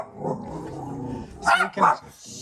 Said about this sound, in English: And there's dogs walking down the street.